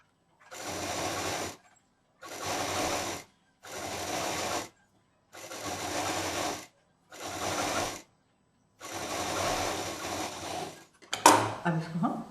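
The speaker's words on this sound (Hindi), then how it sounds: "लास्ट में डबल मशीन।" Sewing machine stitching a patchwork bag handle, running in six separate bursts of steady rapid whirring with short silent pauses between, close and clear, ending with some clatter of handling.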